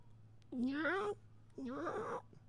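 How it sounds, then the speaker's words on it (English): A cat in heat yowls twice outside in long, wavering, drawn-out cries separated by a short pause, heard at moderate distance over a low background hum. "Oh, there's some cat in heat outside."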